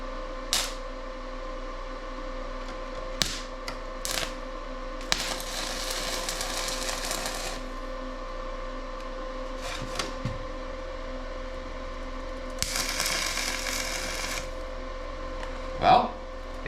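An MMA 120M stick welder tacking sheet metal, giving several short crackling, sizzling bursts of a couple of seconds each, separated by quiet hum and a few sharp clicks.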